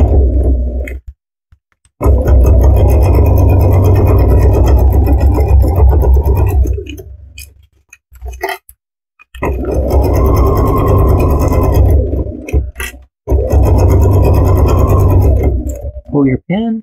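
A sewing machine runs in long continuous bursts while stitching quilt kit pieces for a Muscle Camaro row, loud and steady with short pauses between seams.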